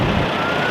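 A long stretched truck rumbling close by with a steady, loud engine drone, reversing beeps sounding over the noise.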